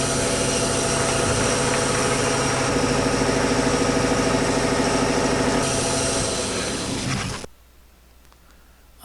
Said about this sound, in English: put in the compressor sound